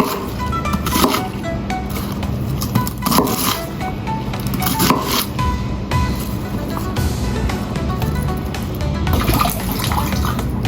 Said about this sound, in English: wash and cut cabbage into small pieces